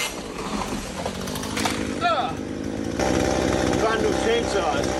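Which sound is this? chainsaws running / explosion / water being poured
chainsaws running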